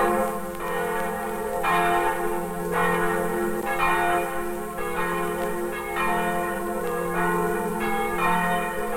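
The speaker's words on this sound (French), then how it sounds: "la voix des cloches d'une église campagnarde réveillera dans leur lit les petits-enfants du bourg" Bells of a country church in a French village ring out in repeated, regular strokes, each chime swelling and decaying in turn, loud and clear over several seconds with no talking.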